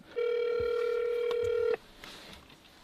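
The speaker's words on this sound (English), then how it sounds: "we should try a Bluetooth call, see if we got the Bluetooth working properly" A phone call rings through the Bluetooth stereo of a 2005–2015 Toyota Tacoma pickup fitted with a Tesla-style screen: one steady, loud electronic tone lasting about a second and a half, then quiet cab noise.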